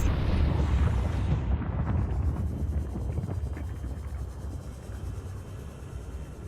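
Booster rocket launching in Subnautica played in VR, a loud deep rumbling roar that swells at once and then slowly fades away as the rocket climbs.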